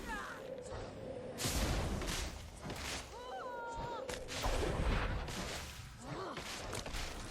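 Booming mortar blasts and explosions from the Nightmare Mortar in the game Guild Wars 2, with heavy thuds and whooshes repeating through a busy battle soundscape; someone talks over parts of it.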